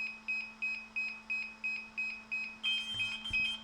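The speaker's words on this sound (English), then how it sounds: "it'll now go into that pairing mode. So it'll start beeping" A DJI Air 2S drone beeps in pairing mode with its Smart Controller: eight evenly spaced high electronic beeps over a steady low hum, then a quicker, denser run of tones near the end.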